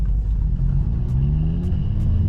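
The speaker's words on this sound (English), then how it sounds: "I could tell it seems like it has like maybe a slight misfire." A car engine with a slight misfire idles and revs with a deep, uneven rumble and a few sharp ticks, close and steady throughout.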